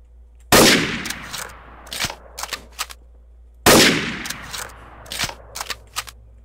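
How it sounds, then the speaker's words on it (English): Gunfire in Garry's Mod Trouble in Terrorist Town as players shoot at each other: two loud, sharp bursts with rapid echoing tails, each followed by scattered quicker shots, with no talking. "they're shooting at each other"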